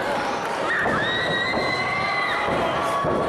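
A wrestling crowd at a PPW show cheering loudly for Napalm, a dense roar of shouts and high-pitched screams that holds steady throughout.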